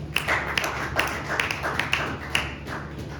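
A church congregation claps in a steady rhythmic beat, about two and a half claps per second, moderately distant and somewhat faint, with no talk over it.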